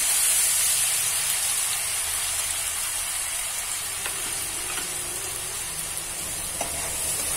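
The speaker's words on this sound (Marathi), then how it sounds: "पहिले टाकते मोहरी, आलं लसूणचा ठेचा, छान आपल्याला भाजून घ्यायचं आहे मंद याच्यावर" Mustard seeds and crushed ginger-garlic paste fry in oil over a low flame, a continuous soft sizzle and hiss that holds steady with occasional faint pops and no talking.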